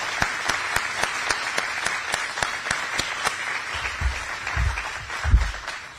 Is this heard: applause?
yes